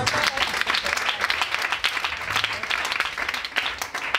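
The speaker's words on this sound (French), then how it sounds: "Acclamons le Seigneur." A church congregation applauds together, a dense, steady wash of many hands clapping close and loud for several seconds, with a few voices mixed in.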